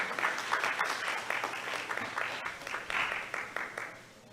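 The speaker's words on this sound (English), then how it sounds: "another round of applause for you guys" An audience at a senior signing day claps steadily and loudly, a dense patter of many hands that fades slightly toward the end.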